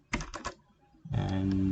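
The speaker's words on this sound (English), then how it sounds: "We need to type localhost" Keystrokes on a computer keyboard, a few quick close clicks, a pause, then a denser burst of typing.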